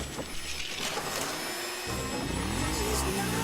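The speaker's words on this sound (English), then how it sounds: "This ad has the introduction of the vacuum cleaner, who's sort of a reoccurring antagonist." A vacuum cleaner in a goldfish cartoon advert drones steadily throughout, its motor whine joined by a rising, wavering tone in the second half, with faint possible speech underneath.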